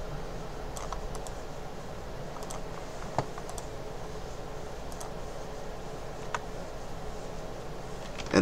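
Keys on a computer keyboard tap in soft, scattered clicks while commands go into a Linux terminal, with a couple of sharper clicks and a faint background hum.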